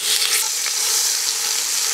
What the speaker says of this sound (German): Lassen wir es schön anbraten, bevor wir es weiter verrühren, damit es eine schöne Kruste kriegt auf der einen Seite.